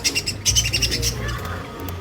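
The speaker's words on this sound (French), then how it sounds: "Oh, vous entendez, il parle. Il a dit, il parle. Cet oiseau." A talking bird in Koh Phangan, Thailand, utters a short burst of voice-like, word-shaped vocalizations, close and clear, in a brief two-second phrase with no one else speaking.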